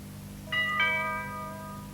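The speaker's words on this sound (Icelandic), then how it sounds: "studdi fingri á bjöllunhappinn" A two-tone doorbell chime rings once as a button is pressed: a bright first note, then a second that lingers and slowly fades in a quiet room, with no talking.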